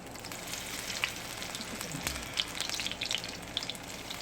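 Squash patties frying in hot oil, a steady close crackling sizzle with scattered sharper pops throughout, no talking.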